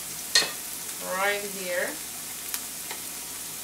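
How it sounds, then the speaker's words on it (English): Garlic sautéing in a pan over high heat for a turkey and yam shepherd's pie gives a steady, close sizzling hiss with a couple of sharp clicks; a voice speaks briefly over it. "I like to saute on the high heat and just mix everything up."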